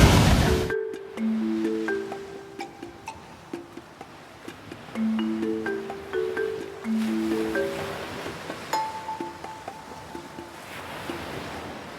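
Surf washing steadily onto Tortuguero beach in Costa Rica, a continuous broadband roar with clear, tonal bird-like calls repeating over it throughout.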